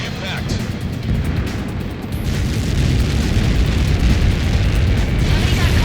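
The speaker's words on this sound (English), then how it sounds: "Somebody got caught in that explosion." A video game explosion after a missile impact roars as a dense, loud low rumble that swells and sustains for several seconds, with a radio voice speaking over it.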